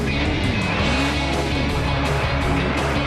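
Arcade truck racing game Excite Truck on Nintendo Wii: a loud, continuous revving truck engine with shifting pitch and a tire-skid edge, steady and up close with no talking.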